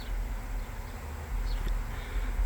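A honey bee swarm hums in a low, continuous drone, fairly faint and steady against outdoor background noise, with no talking.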